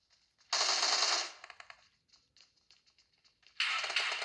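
Automatic gunfire in the mobile game PUBG Mobile, played on a Samsung A51: two loud sustained bursts of rapid shots, the first about a second long and the second starting near the end, with faint scattered game sounds between them.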